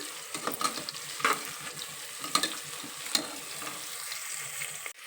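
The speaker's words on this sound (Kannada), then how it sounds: "ಉಳ್ಳಾಗಡ್ಡೆ ಎಣ್ಣೆ ಒಳಗೆ ಹುರ್ಕೋಬೇಕು ಅದನ್ನು ಸ್ವಲ್ಪ ಕಲರ್ ಚೇಂಜ್ ಆಗೋವರೆಗೂ" Onions frying in oil for egg biryani, a steady close sizzle with repeated scrapes and clinks of stirring, and no voices.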